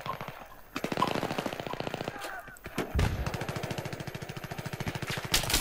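M4 rifle gunfire in a Battlefield 3 multiplayer match: rapid automatic bursts with steady rhythmic shots, close and loud, with a brief lull between bursts and a voice faintly under the action.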